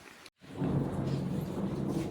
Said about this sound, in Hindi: बादल देखो कैसे गरज रहे हैं, अभी भी बारिश नहीं रुकी है